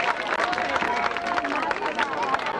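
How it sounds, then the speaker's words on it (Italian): A dense crowd claps and cheers continuously for the women who won a spaghetti-eating contest at a village festival, loud and close, with voices mixed into the applause. "un grosso applauso per queste coraggiosissime donne"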